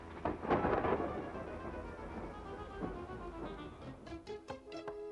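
Rumbling thunder rolls through steady rain, a loud crack early on and further thunder fading off, with rain patter continuing throughout.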